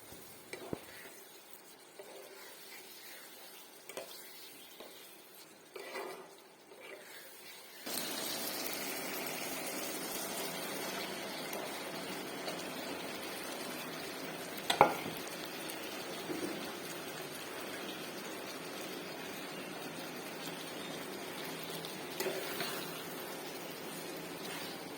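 Spices and meat are stir-fried in a pot for khichuri, a soft broad sizzle that starts quiet and rises to a steady frying hiss, with occasional clinks of stirring.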